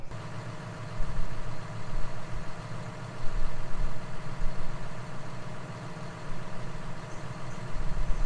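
John Deere 6215R tractor, fitted with a front-mounted John Deere 131 mower, its engine idling in a steady low rumble heard from the cab, with slight swells in level and no talking.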